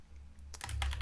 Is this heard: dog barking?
no